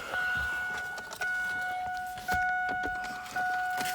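Car keys jingle in short bursts at an ignition while a steady electronic warning chime repeats in the car; no one speaks.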